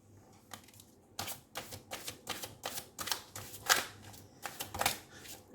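Tarot cards handled and drawn from a deck: a rapid series of crisp, papery snaps and flicks, nearby and fairly quiet, with no talking.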